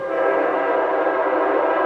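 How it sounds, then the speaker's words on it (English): A railway snowplow train sounds one steady, loud horn blast, held for about two seconds, while it works to clear snow from the tracks. "Watching the power of a snowplow make its way down the train tracks is a really cool thing to see."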